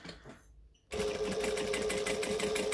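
A sewing machine stitches fabric pieces together along a seam allowance, starting abruptly after a quiet moment and then running steadily at a fast, even buzzing pace, close and loud.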